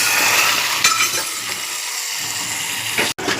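Tomato chutney being stirred and mixed in a bowl, a steady scraping and clinking texture with a couple of sharper knocks, close and moderately loud, no talking.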